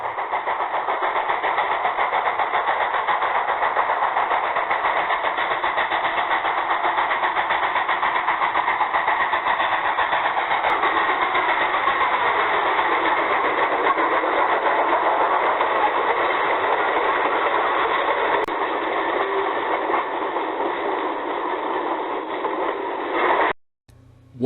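Locomotive number 6 hauling a short log train to a sawmill at a July 4th steam-up, heard as a continuous, steady engine chugging running unbroken and fairly loud until cutting off at the end.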